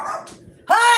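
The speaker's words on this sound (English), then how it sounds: "The dog's barking, everything going crazy" A dog gives one short, loud bark near the end, following softer whining sounds and indoor noise.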